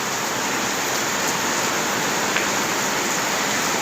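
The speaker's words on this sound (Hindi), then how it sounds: "मलेशिया में जो बारिश की आवाज़ है वो चेक करें, बड़े ज़ोर से बारिश हो रही है।" Heavy rain pours steadily onto a street in Kuala Lumpur, Malaysia, a dense, even hiss that stays loud and unbroken throughout, with no voices over it.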